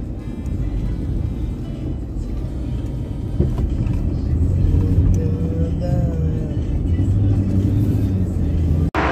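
Cars driven on a road, a continuous engine and tyre rumble with vehicles passing and one rising whine near the middle, fairly loud throughout with no talk.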